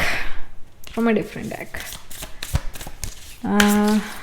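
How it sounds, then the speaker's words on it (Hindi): Tarot cards are shuffled and drawn from a second deck, giving quick papery riffles and soft flicks close to the mic, with a voice speaking briefly at the start and again near the end. "एक और कार्ड भी निकाल लेते हैं, but from a different deck"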